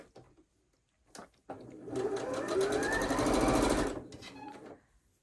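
A sewing machine stitches quilt block pieces together for a Song of Praise quilt block, running in one steady, close whirring burst of about two seconds after a few brief clicks, then stopping, with no talk.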